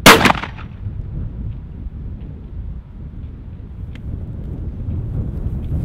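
One sharp shotgun blast fired through a Kicks High Flyer choke during outdoor pattern testing, loud and abrupt at the start, then fading into steady wind rumble with no talking.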